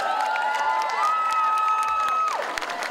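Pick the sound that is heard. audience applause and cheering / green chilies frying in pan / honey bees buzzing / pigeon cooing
audience applause and cheering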